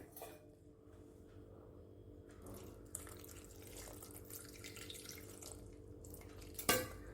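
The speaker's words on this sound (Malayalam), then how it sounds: "കുറച്ച് വെള്ളം കൂടെ ഒഴിക്കുക" Water runs steadily from a tap into a cooking pot of jackfruit seed curry, with a clink of metal near the end.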